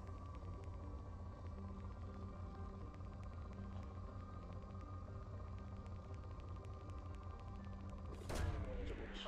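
A probe launch in Mass Effect 2: a faint, steady mechanical hum, then one short, sharp burst near the end.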